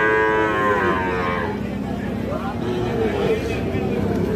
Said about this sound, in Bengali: এইটা একটা ষাঁড় বাছুর